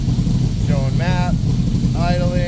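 A Back Draft Cobra 427 settles into a steady, low, rumbling idle as it warms up, with brief higher tonal sounds rising over it twice.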